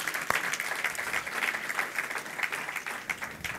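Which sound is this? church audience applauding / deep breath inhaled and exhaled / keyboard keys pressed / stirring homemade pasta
church audience applauding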